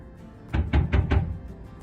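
Four firm knocks on a door in quick succession, loud and close, with no talk over them.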